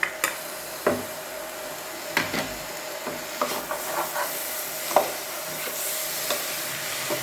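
Chopped tomato going into a frying chicken curry and being stirred in the pan, with intermittent scraping clicks and knocks of the spoon over a steady low sizzle and hiss of oil, close and moderately quiet.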